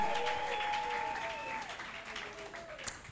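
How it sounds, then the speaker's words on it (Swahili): Church congregation applauding and cheering during a worship service, a sustained wash of clapping with voices rising over it, fairly steady and moderately loud, tapering slightly toward the end with one sharp burst near the close. "Je demandais de grandes acclamations."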